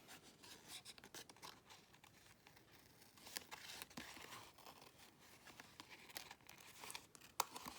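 Cutter Bee scissors snipping and crinkling through paper in small detailed cuts, a run of soft crisp rustles, scrapes and sharp little clips close by and quiet, with no voices.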